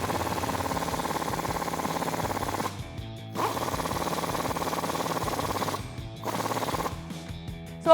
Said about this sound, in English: So now we can tighten down our U-bolt with the same 19mm deep socket.